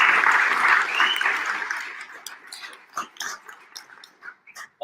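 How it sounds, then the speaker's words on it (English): Applause from an audience at a business boot camp pitch competition, loud and dense at first, then thinning into scattered claps that trail off. "So another round of applause,"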